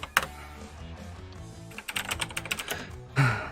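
Rapid clicky typing on a computer keyboard at a CTR World Cup seeding match stream, a busy irregular patter of keystrokes with a louder thump near the end, no voices.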